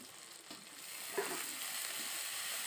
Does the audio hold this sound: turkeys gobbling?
no